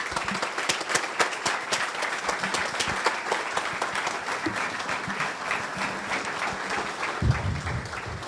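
A standing church congregation gives sustained, loud applause welcoming a pastor, a steady dense roar of many clapping hands throughout with no break.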